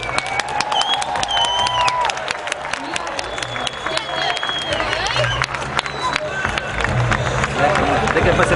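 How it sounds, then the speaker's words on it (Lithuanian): An audience cheers and applauds after a Tornado stunt team show from Kryvyi Rih performing in Lithuania. Steady crowd noise and clapping run throughout, with whistles and excited shouts mixed in. "Jūsų aplodismentai"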